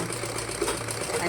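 A sewing machine runs steadily, stitching along the neck edge of a nighty with a close, continuous whirring hum. A voice talks faintly alongside it.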